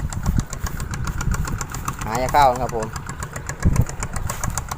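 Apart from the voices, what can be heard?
walking tractor engine running nearby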